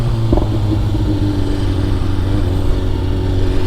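A BMW S1000RR 2025 sport motorcycle with a full Akrapovic titanium exhaust idles and rumbles steadily up close, with one brief sharp click-like shift note near the start and no talk.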